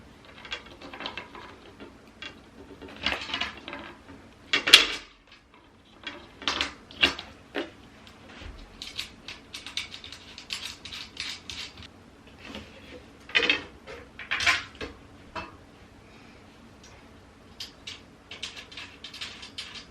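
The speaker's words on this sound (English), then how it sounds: "It's cracking. You can hear all the cracking." Bed frame cracking and creaking while its ends are tightened with tools in a guest bedroom: a series of sharp, irregular clicks and creaks, close and fairly quiet, spaced out over quiet gaps with no talking.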